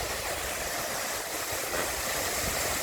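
A steady, broadband rush of falling water and wind at Tad Pha Suam waterfall near Pakse, Laos, constant and moderately loud with no voices.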